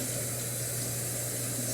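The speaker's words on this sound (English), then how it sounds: "now I am running my pasta in a strainer under some cold water so I can stop it from cooking" Cold water from a kitchen tap runs steadily over cooked pasta in a strainer, a constant soft hiss and splash with no pauses and no talking.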